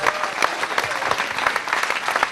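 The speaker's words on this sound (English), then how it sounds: "A great round of applause for 4 wonderful couples." Studio audience on a newlywed couples game show applauds steadily, a dense, loud wash of clapping with no pauses.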